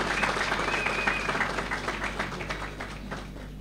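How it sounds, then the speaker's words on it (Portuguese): Applause from an audience at a political meeting in Beira, Mozambique: dense, sustained clapping from many hands, fairly close and gradually easing off, with a brief whistle near the start. "Também vou pedir uma salva de palmas bem forte para a Vânia."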